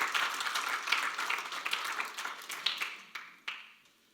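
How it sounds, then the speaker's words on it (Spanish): A church congregation claps in an indoor hall, dense applause at first that thins out into a few scattered claps and fades away. "Vamos, dale un aplauso al Señor."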